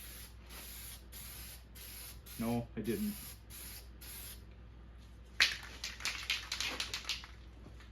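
Spray paint hissing in short repeated bursts as a first coat goes onto a Phazer 2 clone toy blaster build, with brief talk between the sprays.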